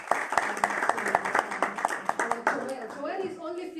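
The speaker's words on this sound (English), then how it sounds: "Give a round of applause again." An audience at a live event claps in steady applause that fades toward the end, with a voice speaking over the clapping.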